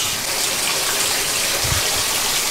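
A GE top-load washing machine fills with water, a loud steady gushing rush that runs unbroken from start to finish, close by and with no talk.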